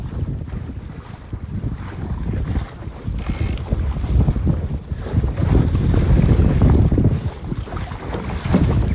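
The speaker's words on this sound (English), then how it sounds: "Wind's shifting around a little bit." Steady, loud wind roars across the microphone aboard a small sailboat moving over waves on its first sail, with continuous rushing water and gusts and no talking.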